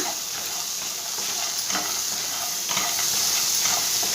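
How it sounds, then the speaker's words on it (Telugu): Phool makhana chaat being stirred together with chopped tomato in a bowl, a soft continuous rustling and scraping with faint hiss, moderately loud and steady, no voices. "ఇది మొత్తం మిక్స్ మిక్స్ చేసుకుందామండి మిక్స్ చేసుకుందాం మొత్తం కలిపి"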